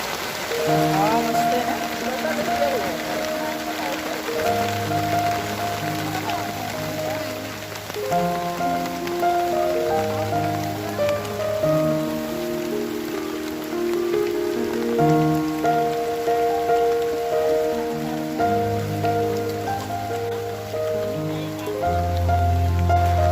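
Heavy rain pours down steadily over village rice fields in Mithbav while a loud melodic tune plays over it throughout.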